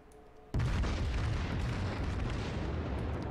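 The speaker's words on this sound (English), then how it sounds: "I'm shooting armor piercing, so maybe it's gonna do something" Battleship main guns fire armor-piercing shells in World of Warships naval combat, a sudden heavy boom that gives way to a long, dense rumbling roar.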